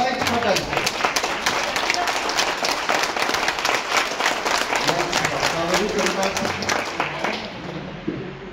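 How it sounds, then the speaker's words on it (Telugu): A crowd claps steadily and loudly at a leadership training event, dense applause holding for several seconds before tapering off near the end, with no talk over it. "ఎందుకు చప్పట్లు కొట్టమని చెప్పాను"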